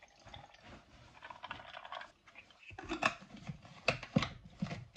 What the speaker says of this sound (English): And just pour that in there.